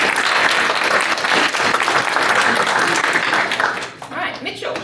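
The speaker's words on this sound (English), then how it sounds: "round of applause for Steve" Audience applause for a candidate at a political candidates' event, loud dense clapping from a crowd that holds steady, then thins out with a few voices and scattered claps near the end.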